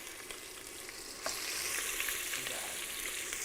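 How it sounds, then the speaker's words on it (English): Chicken pieces hit hot oil in a pan for Thai green curry and break into a sudden, loud sizzle that holds steady and close, crackling for the rest of the moment. "let's start putting in our chicken. If it sizzles, we're winning."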